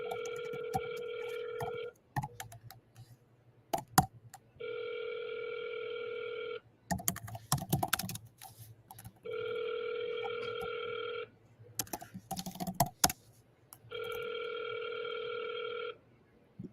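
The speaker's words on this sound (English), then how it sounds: "I'm gonna dial." A phone call's ringback tone purrs in four evenly spaced two-second rings, clear and steady, with brief bursts of handling noise and faint voices between the rings.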